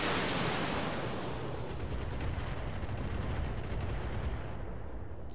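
Sustained heavy gunfire and explosive rumble from the Battletech video game, a mech firing on an LRM turret, loud and continuous with dense booming blasts throughout.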